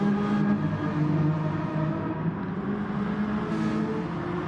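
Renault Megane Trophy race cars battling for position at Interlagos, a steady droning engine roar of several cars at speed with a slight rise in pitch near the end, continuous and fairly loud.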